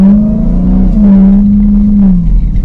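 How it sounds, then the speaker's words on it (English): A 2026 Dodge Durango SRT Hellcat's V8 engine holds a loud, close, steady rev at launch control, a deep droning roar that rises slightly and then eases back. "sample, small sample of the sound you're going to get out of the Dodge Durango SRT Hellcat"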